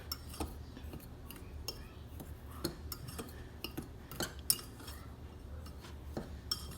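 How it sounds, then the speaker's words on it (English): A utensil clinks and scrapes against a bowl while brown sugar and cinnamon are stirred together for a honey bun cake, quiet irregular taps over a soft background hum. "And then we're just gonna mix this together."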